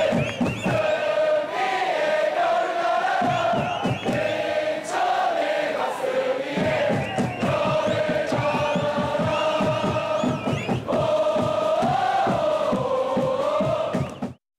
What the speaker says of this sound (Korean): 경기 내내 인천의 응원가와 함성이 경기장을 장악했습니다